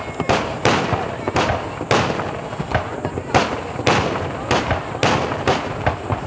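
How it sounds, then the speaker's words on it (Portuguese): A fireworks display over Lake Inohana in Hamamatsu, with repeated loud booms and crackling bursts in quick, irregular succession, heard from a distance in open air. "à noite, para encerrar, um show maravilhoso de queima de fogos no lago Inohana"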